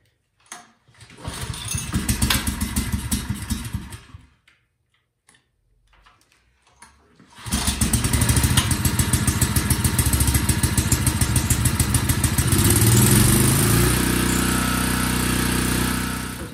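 A Craftsman generator engine sputters briefly on a first pull, falls silent, then catches and runs loud and steady with a rapid rhythmic chug until the end.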